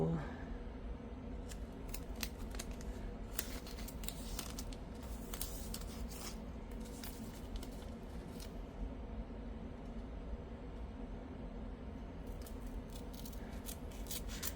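Scissors cut paper for a planner, close up, in a series of crisp snips and slicing strokes that come in short bursts with brief pauses. Faint paper rustle sits underneath.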